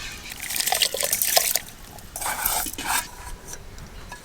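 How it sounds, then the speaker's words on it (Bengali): Soaked rice and fried moong dal tipped into hot water in a pot for khichuri, with stirring, clinking utensils and watery trickles in short bursts, close and moderately loud. "জল গরম হয়ে গেছে, ভিজিয়ে রাখা চাল দিয়ে দেব। ভেজে রাখা মুগের ডাল দেব,"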